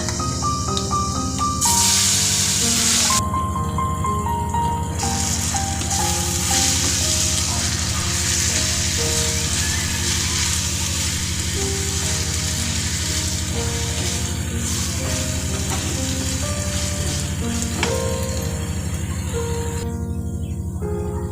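Raw mango pieces and garlic frying in hot oil give a loud, steady sizzle that runs unbroken throughout, with a faint tonal background beneath it.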